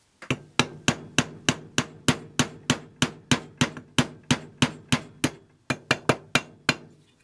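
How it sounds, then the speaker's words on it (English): A hammer strikes a pin out of a Star Model B pistol in a steady run of about twenty sharp metallic taps, close and evenly paced, with one brief pause before the last few blows. "That one, I think you hammer from the top out."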